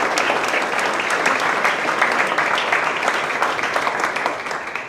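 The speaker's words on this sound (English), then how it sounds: "let's have a round of applause for student athletes" Sustained crowd applause for student athletes at a high school athletic awards night, loud and even, with many hands clapping together for several seconds before easing slightly at the end.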